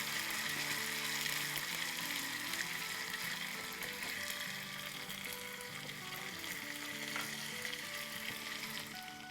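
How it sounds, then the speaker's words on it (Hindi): Ginger-garlic paste fries in an Instant Pot with a faint, steady sizzle and crackle that runs throughout. The sound is quiet and continuous, and no voices are heard. "चले हमारा जिंजर गार्लिक फ्राई हो रहा है"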